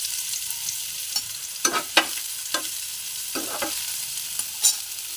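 Mushrooms, carrots, beans and spring onion stir-fried in a hot pan for a gola pizza, with steady sizzling and several sharp scrapes and tosses of the spatula, close and alone with no talk.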